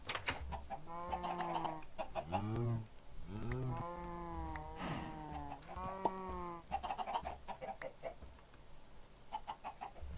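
Chickens clucking in the video game Minecraft, a series of repeated squawking calls close by, mixed with cattle mooing over a faint background.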